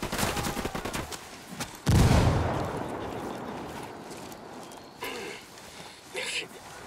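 Frag grenade detonation and gunfire in the tactical shooter Ghost Recon Wildlands: a rattle of shots, then a heavy blast that booms and rumbles away, followed by scattered bursts with game voices talking over the combat.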